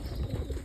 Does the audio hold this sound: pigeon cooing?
yes